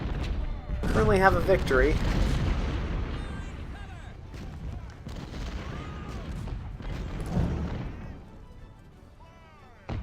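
Booms and rumbling cannon blasts from Civil War-era artillery in the Ultimate General: Civil War video game, with several heavy hits early and scattered crackling shots later, under a man's intermittent speech.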